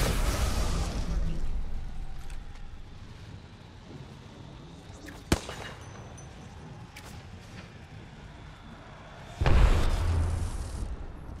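A frag grenade in Apex Legends bursts with a sudden loud boom near the end, above a steady background of game noise, with a sharp crack heard a few seconds earlier.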